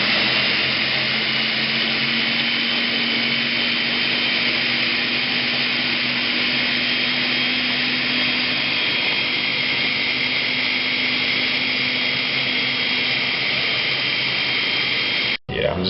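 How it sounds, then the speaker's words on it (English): A blender runs continuously, whirring a green breakfast shake, loud and close with a steady roaring motor tone that holds for about fifteen seconds before cutting off abruptly. "from here, we just blend it"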